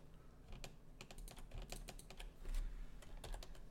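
Rapid, uneven tapping on a computer keyboard, steady and fairly close, with no voices.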